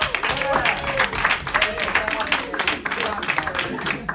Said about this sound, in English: can you guys give my friends and my helpers a big hand clap?